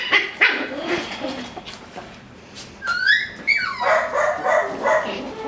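A Coton de Tulear mother dog with her puppy litter barks and yips in a run of short, fairly close calls, the barking growing busier and more continuous in the second half, with some whimpering mixed in.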